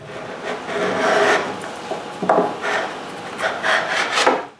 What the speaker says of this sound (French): là, je gratte l'excès.